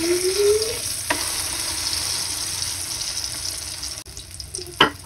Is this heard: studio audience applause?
no